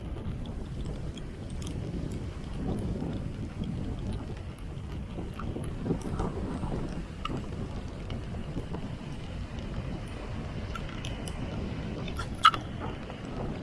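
Steady outdoor wind buffeting a microphone near the water, a continuous low rumble and flutter throughout with a brief sharp knock near the end.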